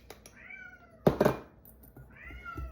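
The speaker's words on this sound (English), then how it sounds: "Kitty cat wants in the back room with Aiden" An indoor house cat meows several times at close range: a couple of drawn-out cries around a soft thump, at moderate volume in an otherwise quiet kitchen.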